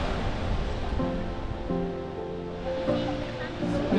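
Steady rushing water roars continuously at Plitvice Lakes, Croatia, a broad wash of noise like falling water heard from a short distance.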